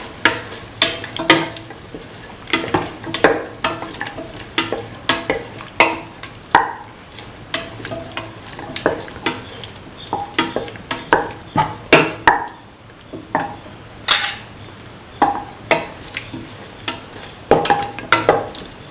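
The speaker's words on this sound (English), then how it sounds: "Mix the carrot pieces with the rest of the mixture." A spoon stirs carrot pieces through a beef and ivy gourd stew mixture in a pan, giving repeated scraping and clattering strokes with soft sizzling underneath, close and fairly loud with no talking.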